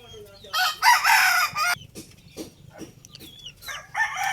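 A caged spangle gamecock rooster crows loudly at close range, first a long crow and then a shorter one near the end, with clucks and farmyard sounds between them.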